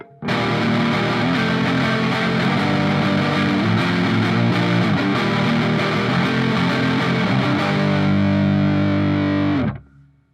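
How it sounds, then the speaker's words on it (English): Electric guitar played through a Donner Extreme Driver distortion pedal, thick sustained distorted chords ringing loud and continuous for about nine seconds before cutting off abruptly into silence, with no talking. "So today I'm going to be talking about specifically my Donner Extreme Driver Distortion pedal"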